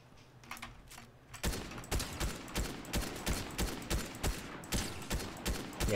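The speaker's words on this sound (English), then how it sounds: "few shots my way" Rapid gunshots fired at the player in the video game Fortnite, a quiet start giving way at about one and a half seconds to a steady, evenly spaced string of loud sharp cracks.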